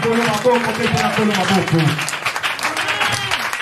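A church congregation applauding and acclaiming during a French-language sermon: steady, loud clapping from a crowd mixed with raised voices and cheering, sustained throughout.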